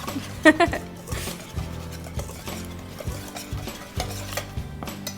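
Dry ingredients for chocolate protein bars being stirred in a bowl, with soft scraping and tapping strokes in a loose rhythm and a few sharper clinks near the start, close and fairly quiet.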